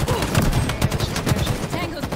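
Rapid automatic gunfire crackles through a Halo multiplayer match in a Lady Spartan pro series game, dense repeated shots under the mix with a voice talking faintly in the background.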